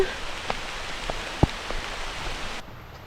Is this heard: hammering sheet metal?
no